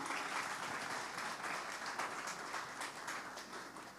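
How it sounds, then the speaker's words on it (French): Steady audience applause rises at the close of a prostate cancer conference session, a dense wash of many hands clapping, heard from some distance and fairly quiet, tapering slightly toward the end. "On peut les applaudir"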